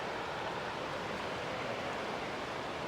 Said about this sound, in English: I hear the river over here, don't you?